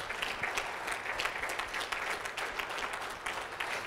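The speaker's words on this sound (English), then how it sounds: "Clap for Jesus." A church congregation claps together in steady, dense applause that fills the room, close and loud without a break from start to finish.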